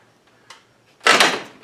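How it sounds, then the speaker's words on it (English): A door on a room cooled by a Mr. Cool mini split swings shut with one loud burst of thumping and rattling, preceded by faint knocks and followed by a small tap. "close the door"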